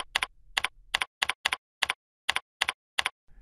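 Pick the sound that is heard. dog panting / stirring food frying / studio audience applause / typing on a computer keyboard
typing on a computer keyboard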